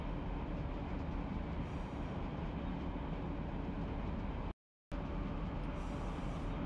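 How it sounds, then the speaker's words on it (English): A train in Run 8 Train Simulator rumbles steadily with a dense, continuous low roar and rolling noise, broken by a brief total dropout near the end. "you can see the train coming here"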